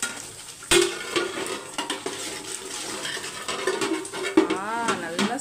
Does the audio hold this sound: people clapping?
no